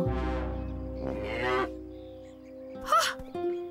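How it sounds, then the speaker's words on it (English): Cows mooing in a cartoon farm setting, two long drawn-out moos in close succession followed by a quieter, shorter call, all heard clearly against faint background music. "Those cows are just cranky."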